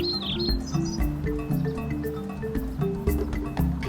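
Tuneful bird calls, a series of bright chirps and whistled notes repeating in quick succession over a soft, busy background, fairly close and at a moderate level.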